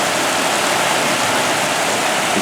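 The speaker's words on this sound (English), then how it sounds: "so much water is going into the cistern it's overflowing" Heavy rainwater rushes from a roof through downspouts and buried pipes into a home cistern until it overflows. The gushing is loud, close and unbroken, with no talk.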